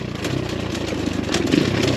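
X Pro Storm 150 DLX ultralight dual sport motorcycle on a rocky trail, its small engine thrumming at a steady mid pitch with slight surges, close and continuous against wind noise.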